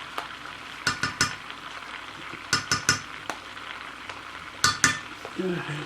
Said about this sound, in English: in here I'm going to add the minced garlic